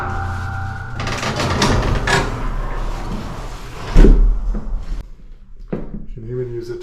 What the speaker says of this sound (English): You just hook it on the eyelet. Pretty straightforward. Pull it down.